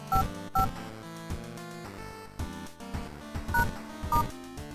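Telephone keypad tones sound in the horror video game World of Horror, a series of distinct dialing beeps spaced irregularly, clear and alone over a low in-game hum.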